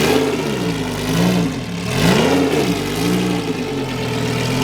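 A Lamborghini Huracan Super Trofeo Evo race car engine runs loud and close, with a deep rumble that idles and then rises and falls through a few throttle blips.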